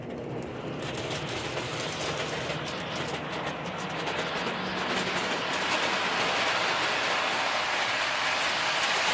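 A Conrail model train set runs along its track, a steady dense rolling rumble with fine clicking that grows slightly louder, heard up close from an onboard camera car.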